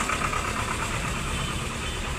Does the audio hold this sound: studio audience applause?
no